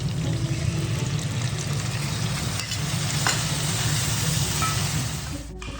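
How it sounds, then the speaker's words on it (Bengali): Fried potato and eggplant are stirred in a hot pan, giving a loud, continuous close-up sizzle with faint scraping of the spoon throughout, no talking. "আমি এখানে আলু বেগুন যা যা ভেজে রেখেছিলাম সবটাই দিয়ে দিচ্ছি। একটু নাড়াচাড়া করে দেবো"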